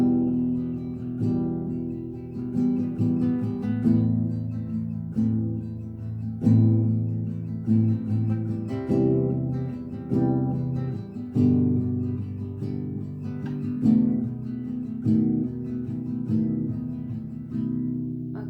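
Acoustic guitar strummed in a steady pattern of full downstrokes and half upstrokes, playing a song, close and clear with rhythmic accents and no voices.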